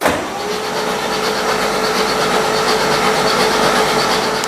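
A REO truck's engine cranking over after refurbishment, a steady loud mechanical churn that holds without a break for several seconds and never catches.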